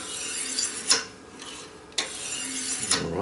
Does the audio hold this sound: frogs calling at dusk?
no